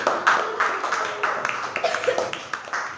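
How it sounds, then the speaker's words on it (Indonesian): Students in a classroom clap for a group presenting discussion results, a short stretch of quick, uneven claps from a small crowd, close and fairly loud throughout. "Beri tepuk tangan untuk"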